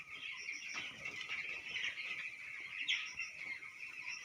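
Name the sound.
broiler chickens in a poultry farm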